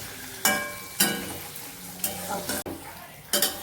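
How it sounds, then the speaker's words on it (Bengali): Vegetables and onion fry in a pan, a sizzling hiss broken by several loud bursts of stirring and scraping at irregular intervals, close and without talk. "এখন আমি ভেজিসগুলো সবগুলো ভালো করে ফ্রাই করে নিচ্ছি"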